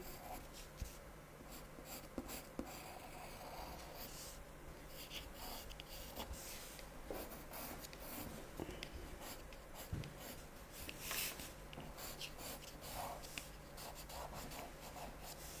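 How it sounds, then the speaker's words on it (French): A pencil glides quickly over smooth paper in steady scratchy strokes, close and faint, heard alone without any voices, in a session drawing an imaginary bird. "avec le crayon papier, donc sur un papier lisse, ça glisse, ça n'accroche pas, ça va très vite"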